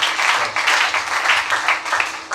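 A church congregation applauding to acclaim the Lord, a dense, steady burst of clapping from many hands, close and fairly loud for a couple of seconds.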